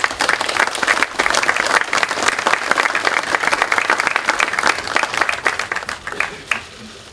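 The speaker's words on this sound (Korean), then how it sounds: "여러분 뜨거운 박수 한번 좀 보내주십시오." A crowd at a Korean party floor leader election event gives loud, dense, sustained applause that tapers off near the end, with only faint voices underneath.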